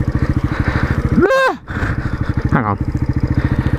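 Road motorcycle stuck in mud while off-roading, its engine loudly chugging in a fast regular rhythm and twice revving up sharply before dropping back, with someone briefly speaking over it.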